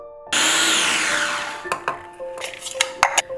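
A kitchen blender chopping carrots and half an onion, starting abruptly with a loud, steady whir that grows more uneven as chunks knock against the jar, punctuated by sharp rattles near the end.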